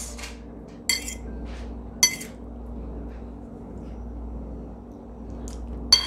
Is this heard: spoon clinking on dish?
yes